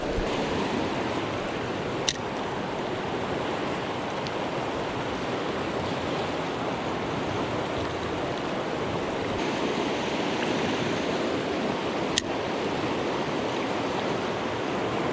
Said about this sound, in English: The water's fast through here.